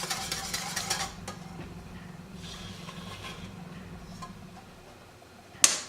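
Fudge mixture of melted butter and sugar being stirred constantly in a pan, a soft bubbling sizzle with light scraping and spoon ticks against the sides, quiet and close, ending in a sharp clink.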